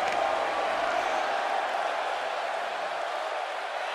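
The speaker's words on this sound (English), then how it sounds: "And Michael, it sounds to me like this crowd already picked the one who they want to win this match" Arena crowd at a WWE 2K18 wrestling video game match cheers in a steady, dense roar that fills the whole stretch at an even, fairly loud level.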